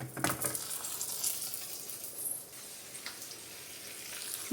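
Curry leaves are dropped into hot tempering oil in a pan with the gas just switched off, crackling with a steady, fairly faint sizzle that fades slightly toward the end.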